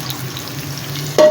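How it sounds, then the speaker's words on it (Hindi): Onion paste frying in a cup of hot oil for cooking liver, a soft steady hiss building into a louder burst of spluttering at the end, close by with no speech. "प्याज फ्राई हो चुका है।"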